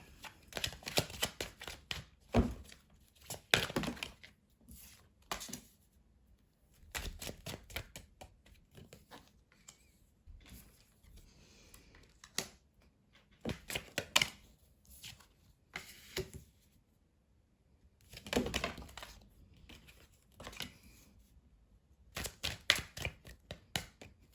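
Tarot cards shuffled repeatedly, close and crisp, in bursts of rapid riffling and patting separated by short pauses.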